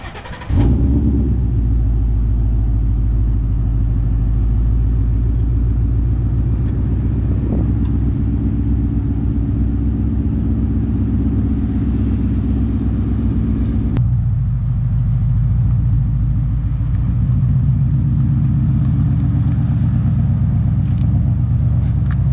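A car engine idles and rumbles steadily up close, with a brief rev as the car is moved into a parking space, the low drone continuing without pause throughout.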